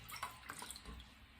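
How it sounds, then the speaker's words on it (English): Two cups of water pour into a garlic brine with roughly chopped cloves, a brief, quiet splashing trickle lasting about a second. "So the last thing that we need to add is just 2 cups of water."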